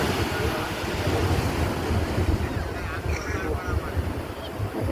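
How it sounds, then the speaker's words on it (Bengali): Large ocean waves break and wash in near steps by the shore, a continuous loud roar of surf mixed with wind buffeting the microphone. "ওই যে দেখো বড় ঢেউ আছে।"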